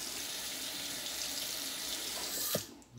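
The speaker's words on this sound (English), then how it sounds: "I'm gonna rinse the blade off" A razor blade is rinsed under a running tap, steady water splashing into a sink for a few seconds before the flow is cut off near the end.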